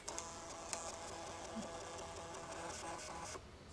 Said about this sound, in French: Voilà, ça t'imprime ton test de batterie.